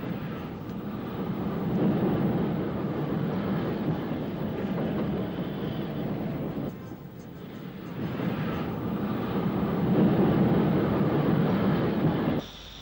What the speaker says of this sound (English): The train leaves Whitehead, which has long been the main base of the Railway Preservation Society of Ireland, and soon it covers the 10 miles or so to Larne Harbour.